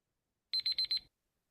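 A quiz timer alarm signals that time is up with four quick, bright electronic beeps in a short even rhythm, loud and clear against silence.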